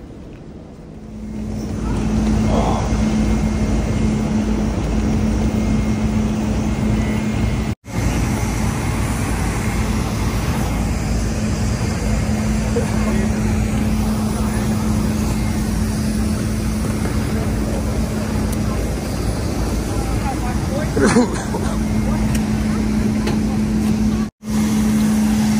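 Airport bus carrying passengers out to a plane at Lahore, a steady loud engine drone with a low hum throughout and brief dropouts.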